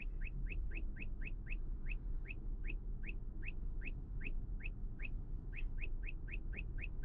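Uniden R7 radar detector chirping on a Ka band alert inside a Tesla Model Y Performance, a rapid run of short, bright electronic chirps repeating steadily over a low, continuous road rumble.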